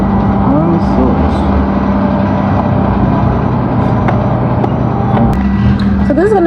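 A car's interior on the way to Zindoga carries a steady engine and road hum from start to finish, loud and even, with people talking over it.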